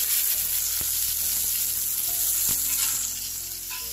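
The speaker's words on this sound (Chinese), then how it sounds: "油热了，把油倒到锅中" Hot cooking oil hits a pot and gives off a loud, continuous sizzle that eases slightly toward the end, with no talking.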